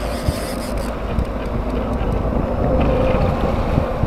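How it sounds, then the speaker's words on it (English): Strong wind buffets a fishing boat out on the water for trout, a steady loud rush with microphone gusting and faint water noise underneath. "Wow, the wind blows on your back."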